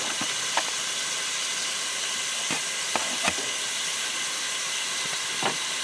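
Venison heart meat and diced onions brown in a pan with a steady, soft sizzling hiss, broken by a few sharp pops and crackles, with no one talking.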